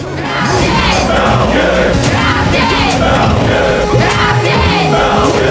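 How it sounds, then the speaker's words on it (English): A loud tournament crowd at a Project M Super Smash Bros. match cheers, yells and whoops continuously for Captain Falcon, a dense roar of many voices with scattered shouts. "Crowd wants Falcon."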